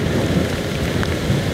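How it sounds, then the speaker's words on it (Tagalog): Heavy typhoon rain from Typhoon Enteng pours steadily, a dense, constant loud roar of downpour with no pause and no voices. "kumbaga walang tigil yung ulan"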